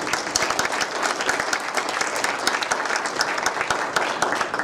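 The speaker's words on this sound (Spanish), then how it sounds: "Les damos un fuerte aplauso, por favor." Steady applause from an audience at a talk on cultural heritage restoration, many hands clapping in a thick, continuous patter at moderate loudness.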